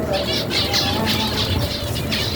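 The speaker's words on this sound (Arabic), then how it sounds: "هاي الطيور مثل ما جاي تشوفوها" Birds in a covered rooftop aviary with pigeons and doves chirp in quick repeated bursts, close and continuous over a steady background hum.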